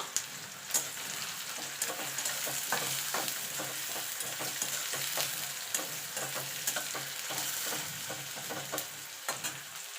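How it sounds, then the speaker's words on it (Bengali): Chopped onion frying in hot oil, a dense, loud crackling sizzle held throughout with regular scraping stir strokes punctuating it up close. "দিয়ে পেঁয়াজটাকে ভেজে নেব, পেঁয়াজটা যেমন ভাজে ওই রকম।"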